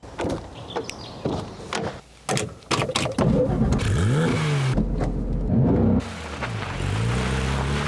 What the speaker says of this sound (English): let's get in the GT3 Touring, go for a drive